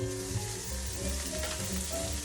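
Salmon cooking on a grill sizzles steadily and densely throughout, close and continuous, with faint piano music underneath.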